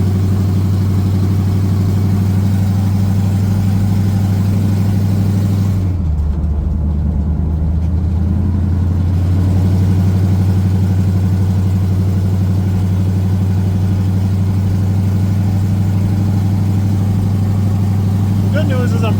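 A 1979 Pontiac Trans Am V8 running loud and steady while driving, a constant deep drone close inside the car that dips briefly in pitch before settling back into an even cruise.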